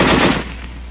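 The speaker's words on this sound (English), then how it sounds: "Weapons giving automatic fire will fire continuously as long as pressure is applied to the trigger" A brief, loud burst of rapid automatic weapon fire, the rattling shots running together and fading within a second.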